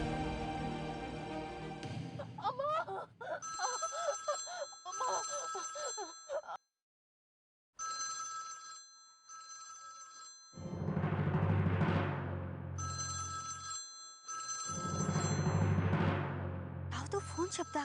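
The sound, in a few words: telephone ringing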